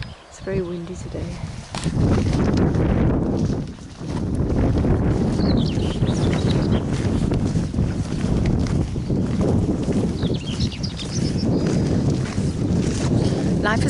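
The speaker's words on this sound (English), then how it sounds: "It's very windy today." Strong wind roars and buffets the microphone in heavy gusts on a walk to a meadow, nearly continuous, with faint voices underneath.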